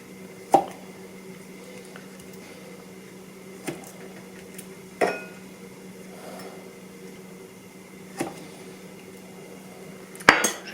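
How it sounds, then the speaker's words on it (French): A knife slicing bananas thinly, giving a handful of sparse, soft taps against the board a few seconds apart over a quiet background hum. "Alors les bananes, faut les couper finement parce que faut qu'on puisse plier derrière."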